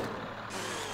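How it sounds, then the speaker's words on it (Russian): Bus in a zombie-smashing car video game firing its rocket thrust, a loud steady roaring engine rush with broadband hiss that brightens and intensifies halfway through, with no talking. "Посмотрите, какая ракетная тяга здесь."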